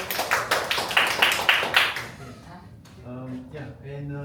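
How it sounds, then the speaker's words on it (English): A short burst of clapping from a small group, lasting about two seconds, followed by a person speaking. "round of applause."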